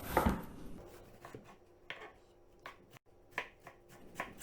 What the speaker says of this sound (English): Time to chop up the eggplant centers.